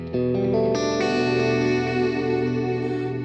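Electric guitar through a Quad Cortex rack rig, playing a clean tone with chorus and echo, with chords building up and ringing out steadily and close, with no talking.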